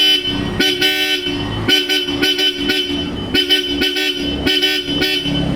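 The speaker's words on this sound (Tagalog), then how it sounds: "Ang i-test natin ang horn kung gaano kalakas." Bosch Europa horns fitted to a Toyota Hilux blare in repeated loud, close honks of varying length, short bursts and longer blasts separated by brief gaps.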